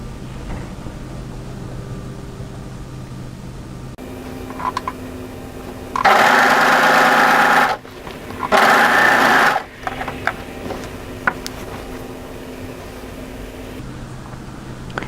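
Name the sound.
overlocker sewing a dress seam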